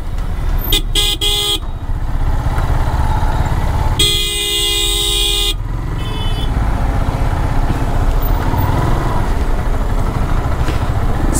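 Heavy morning traffic jam on a Delhi road, with motorcycles and cars idling and creeping close by while several loud car horns honk in short bursts and one long sustained blast, over a constant engine rumble.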